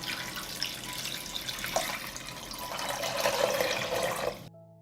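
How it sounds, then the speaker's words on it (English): Water pours steadily from a tap into a cooking pot in a home kitchen, a continuous splashing rush that swells slightly before cutting off abruptly near the end. "I pour water into the pot."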